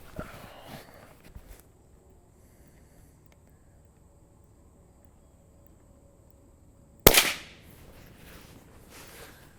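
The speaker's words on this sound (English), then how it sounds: "I want to shoot a round of supersonic and then around the subsonic unsuppressed to give you an idea what that sounds like out of my Ruger American 22" A single unsuppressed supersonic .22 LR round fires from a Ruger American rifle outdoors: one sharp, loud crack late in the stretch, ringing out briefly after a long quiet pause, with faint rustling and insect sounds around it.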